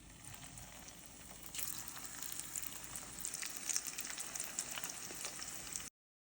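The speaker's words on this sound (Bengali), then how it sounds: "তো সেটাই এখন মাছের ডিমগুলো একটু ভেজে নেবো।" Fish roe fritters fry in hot oil in a pan, giving a steady, close sizzle and crackle that grows busier partway through and continues with no talking.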